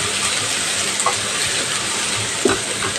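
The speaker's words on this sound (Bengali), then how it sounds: "তেল গরম হয়ে গিয়েছে এখন দিয়ে দেব বেটে রাখা রসুন রসুনটাকে সুন্দর করে নেড়ে চেড়ে একটু ভেজে নেব" Ground garlic paste fries in hot oil, giving a steady, close sizzle with a few soft stirring scrapes throughout.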